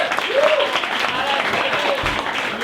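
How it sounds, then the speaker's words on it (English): Comedy show audience applauding after a sponsor mention at a live stand-up set, a steady wash of clapping with a faint voice and tonal sounds briefly rising over it. "That got a bigger applause break than I did?"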